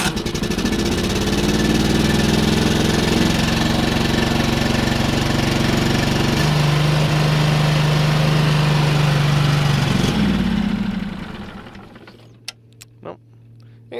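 A neglected 1998 Yazoo YTKC22 three-wheel mower engine runs loud and close with a rough knocking idle and a shift in pitch partway, then cuts off, leaving a few faint clicks.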